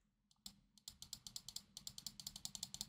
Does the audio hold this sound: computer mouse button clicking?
yes